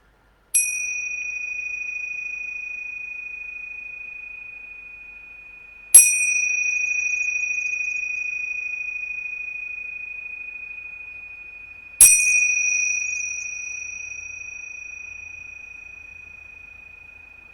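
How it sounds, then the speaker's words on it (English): A meditation bell is rung three times, about six seconds apart, each bright, clear ding ringing out in a long, slowly fading sustain. The space is quiet between strikes, with no voices. "Let me ring the bells."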